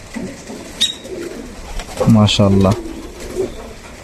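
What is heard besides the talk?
pigeons cooing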